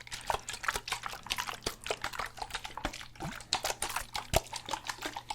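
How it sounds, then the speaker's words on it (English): Rapid irregular water sloshing and dripping inside a bottle, a close, steady stream of small liquid splashes and gurgles with no speech. "once you have some room in the bottle, then you can give them some water sloshing."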